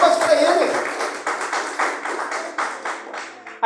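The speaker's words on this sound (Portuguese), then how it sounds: "palmas para Jesus" A church congregation clapping for Jesus during a service: quick, fairly loud rhythmic hand claps in a dense run, with voices over part of it.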